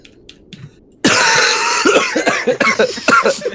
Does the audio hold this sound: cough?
yes